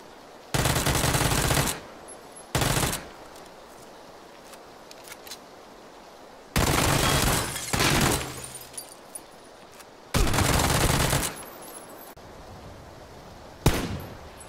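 Video game gunfire crackles in several sharp bursts of rapid shots, loud and close, separated by stretches of quiet background.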